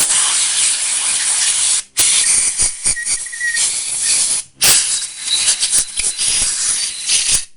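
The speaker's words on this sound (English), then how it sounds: "Blow out all your bolt holes and ports." Compressed air blasting out the bolt holes and ports of a 7.3L Powerstroke injector, a loud close hissing rush in long bursts with two short breaks between them.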